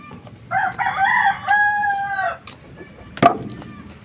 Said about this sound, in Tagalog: Saka may manok po dito